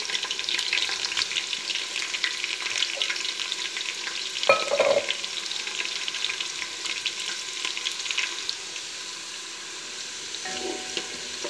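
Chopped onions fry steadily in oil in a pan for daal mash, a continuous sizzle with occasional stirring scrapes and clinks, close and even in level, with no talking.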